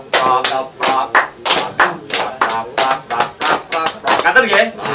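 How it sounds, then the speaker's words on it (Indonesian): Audience claps in rhythm at a cultural gathering, a steady pattern of group hand claps in short repeated bursts, loud and close, with voices speaking around them. "Tepuk tangan kanggo irama."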